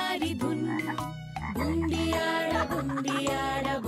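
Cartoon frog croaks set in a Hindi children's song, sounding as repeated rhythmic croaks over bright, busy music with no speaking.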